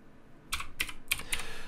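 Four quick bursts of keystrokes on a computer keyboard, close and crisp with short gaps between them, over quiet room tone.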